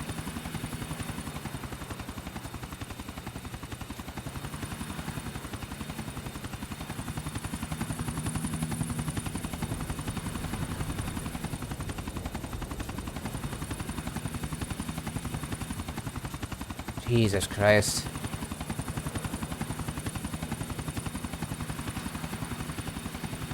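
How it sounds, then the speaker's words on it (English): A helicopter flying in the video game Grand Theft Auto IV gives a steady, loud rotor drone that runs through the whole stretch, with a brief sharp burst near the end and a short spoken exclamation. "Hopefully we don't have to fly helicopters too often in this campaign."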